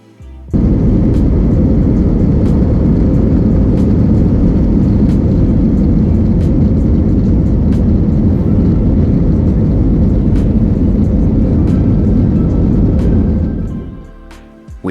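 Royal Jordanian airliner taxiing onto the runway and taking off, a loud steady engine roar holding near constant for about thirteen seconds before fading away.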